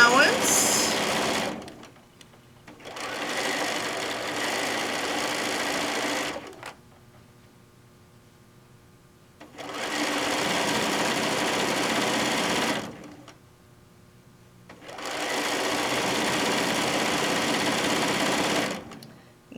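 A sewing machine runs a long straight seam on a fat quarter bag, whirring in four sustained bursts of about two to three seconds each with short pauses between, close and steady.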